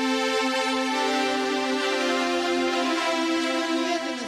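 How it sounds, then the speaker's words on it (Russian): A sustained synthesizer pad plays alone, a steady, dense harmonic chord holding at even loudness throughout with a slight shift in tone partway through. "вот звук пэда"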